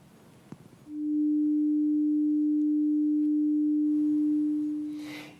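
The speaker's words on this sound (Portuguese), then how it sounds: "Este tem a frequência de 300 Hz." A steady 300 Hz pure sine tone sounds loud and unwavering for about four seconds, then slowly fades out.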